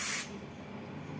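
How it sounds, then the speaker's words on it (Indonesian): A short sharp hiss of cleaner sprayed onto the connector socket pins of a Honda Vario 125 scooter, lasting a fraction of a second before fading into quiet background noise. "kita semprot semua soket-soketnya agar karat-karat putihnya hilang ya di pin-pin soket semua itu"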